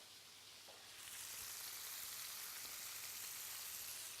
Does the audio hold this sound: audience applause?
no